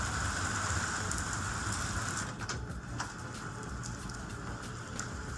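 Steady rain falls in a broadband wash during a spring rainy season, with a few sharp drip-like ticks scattered through it, continuous and fairly close with no talking.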